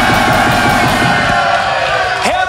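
A crowd at a freestyle rap battle final in Berlin cheers and roars loudly for the winner, a sustained dense wall of voices with a rhythmic thumping underneath early on, ending in a rising whistle or whoop.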